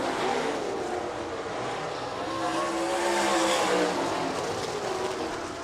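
Midwest sprint touring series cars racing at Rapid Speedway during a heat race, a steady loud roar of engines sweeping past with continuous droning and no clear gaps, no talk.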